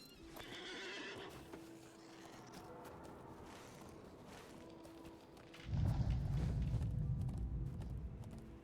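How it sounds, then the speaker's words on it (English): Footsteps and hoof clip-clop in Lord of the Rings Online, with a horse neighing early on, then a heavy rumbling rush of steps growing louder near the end over game ambience. "I still hear the footsteps."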